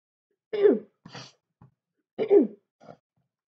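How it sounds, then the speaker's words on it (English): Two harsh coughing fits, each a strong bark followed by smaller hacking bursts, close and loud against silence. "big old cough there"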